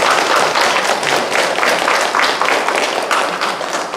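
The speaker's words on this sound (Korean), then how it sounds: "큰 박수 한번 부탁드리겠습니다." A church congregation claps for the fathers, loud and close, with many hands forming a continuous rippling applause that holds steady throughout.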